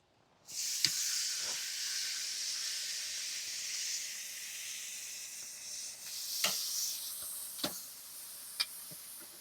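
Beef skirt steak halves sizzle on a charcoal grill, a steady close hiss rising abruptly and holding, with a few sharp pops and crackles scattered through the later seconds.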